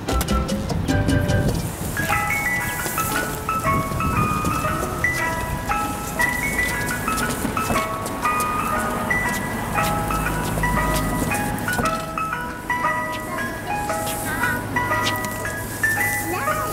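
A cheerful ice cream truck jingle loops its bright tinkling melody at steady volume for a pretend-play cardboard Mr. Softee truck, with birds and light background sounds faintly underneath.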